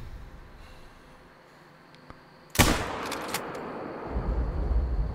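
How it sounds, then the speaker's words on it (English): A single hunting rifle shot in the hunting video game TheHunter: Call of the Wild: a sharp, loud crack rising out of quiet ambience, followed by a few brief snaps and a rumbling tail that swells again. "Took the shot."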